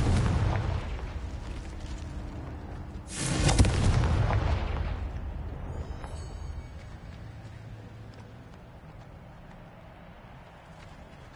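A Confringo fire spell goes off in a Harry Potter video game with a loud boom, after a rumbling rush and before a long, fading crackle with faint chimes.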